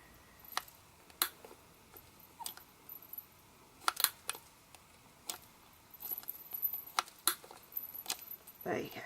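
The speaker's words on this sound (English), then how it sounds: "they're clicking away very smoothly" Sharp, dry plastic clicks from the eye mechanism of a custom Blythe doll, fired off one at a time and irregularly spaced, then bunched faster near the end, close and fairly quiet with no talking.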